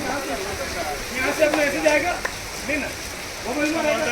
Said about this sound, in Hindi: पानी को पत्तों के ऊपर गिरा के साउंड क्रिएट किया बारिश के जैसे।